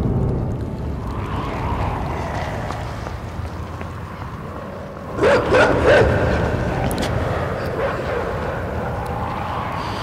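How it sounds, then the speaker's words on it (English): Dogs bark in a short cluster of sharp yaps over a low rumbling ambient drone in the video game Inside, the barking fairly distant and brief. "Oh, good. We got dogs."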